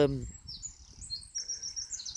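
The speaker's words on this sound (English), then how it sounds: "listen to the birds" Birds singing outdoors, high thin chirps and trills fairly faint over low background rumble, following a brief voice at the start.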